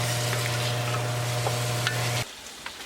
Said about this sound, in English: Keep stirring so it won't get burned.